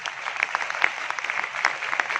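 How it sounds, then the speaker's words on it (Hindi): Short burst of enthusiastic audience clapping at a live motivational business event, dense and steady with a few sharper claps standing out, lasting only a couple of seconds and heard without speech. "तो आप लोगों के लिए एक बार जोरदार तालियां"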